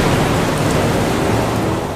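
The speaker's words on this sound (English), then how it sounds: "you start hearing the hammering sound of rain on the fuselage" Dense, loud, continuous rain drumming on an aircraft fuselage in a storm, a steady hiss and patter with no pauses.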